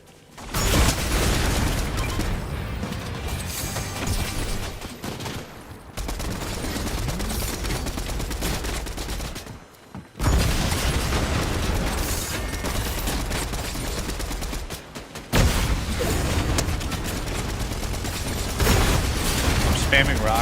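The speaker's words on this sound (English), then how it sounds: "I'm spamming rockets in there." Rockets fired repeatedly in a Fortnite match, blasts and rapid gunfire-like bursts running almost continuously and loud, broken by a few brief gaps, with players talking over the action.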